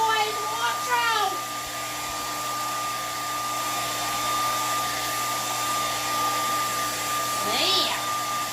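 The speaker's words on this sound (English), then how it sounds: "grab that hairdryer and shush, shush, shush. We're going to dry it off" A handheld hair dryer blows steadily on a wet painting of a heron at sunset, a continuous close airy roar that runs the whole time, with brief bursts of speech-like sound near the start and end.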